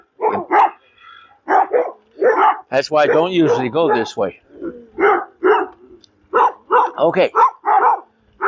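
Dogs bark repeatedly in loud, close bursts with some yips and whines, interspersed with someone talking while passing them on a ride.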